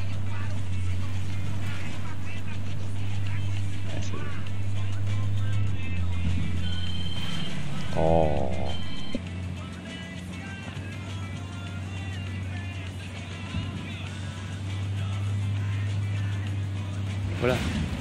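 A car engine hums steadily while driving in the video game Ghost Recon Wildlands, a low continuous drone that holds throughout, with people talking over it for most of the stretch.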